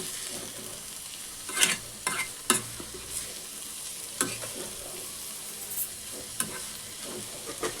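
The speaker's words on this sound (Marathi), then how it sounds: "चांगलं परतून घ्यायचं आपल्याला हे मिक्स करून" Vegetable filling for veg momos sautéing in a pan, a steady frying hiss with intermittent scraping stirs and sharp utensil clinks spread through, close and moderately loud, no voices.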